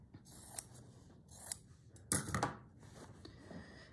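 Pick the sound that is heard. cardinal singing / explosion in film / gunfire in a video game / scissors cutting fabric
scissors cutting fabric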